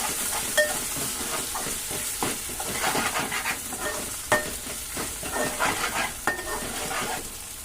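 Ginger-garlic paste sizzles and fries in a pan while a spoon stirs it, with scraping and clinking against the metal over a steady close hiss.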